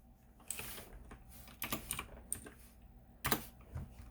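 Computer keyboard typing comes in short bursts of quick, close key clicks separated by brief pauses, as if entering a web search, with no talking.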